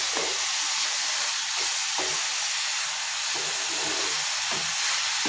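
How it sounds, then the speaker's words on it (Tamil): Chopped banana flower sautéing in hot oil in a pan, a steady loud sizzle and hiss throughout with faint stirring scrapes, no talking. "இந்த வாழைப்பூவை 1 நிமிஷத்துக்கு இந்த எண்ணெயிலே நல்லா வதக்கி விட்டுக்கலாம்."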